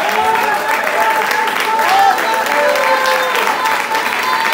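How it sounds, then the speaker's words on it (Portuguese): A congregation at a church teaching service breaks into sustained, dense applause that stays steady and loud for several seconds, with raised voices and exclamations carrying over the clapping. "Vamos dar uma salva de palmas ao Senhor."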